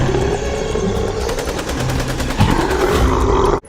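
A toy gun gives off a continuous loud, buzzy rattling burst of rapid shots that runs unbroken for several seconds and then cuts off abruptly.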